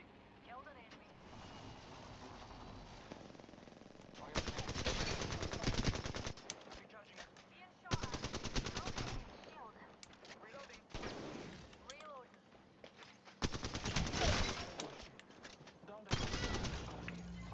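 Bursts of rapid automatic gunfire from a video game shooter come in repeated loud volleys separated by quieter stretches of game ambience, with a voice talking over parts of it.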